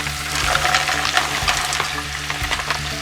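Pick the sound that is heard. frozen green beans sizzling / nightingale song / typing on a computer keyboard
frozen green beans sizzling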